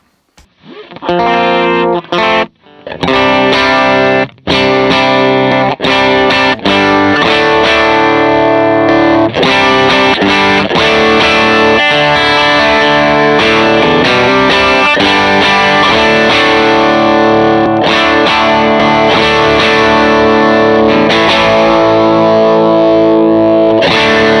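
Heavily overdriven electric guitar through a stacked Superbolt overdrive and Benson Preamp plays dense, saturated chords and riffs, loud and continuous, with thick distortion and a slight chorus-like shimmer.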